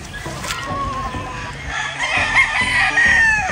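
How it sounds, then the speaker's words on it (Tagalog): Hens, pullets and other chickens in a hardening pen cluck and crow together in a steady, busy barnyard chorus, with a rooster-like crow rising toward the end. "Pero ang mga nakalagay doon yung mga babae, mga hens at pullets ni Boss Jepoy"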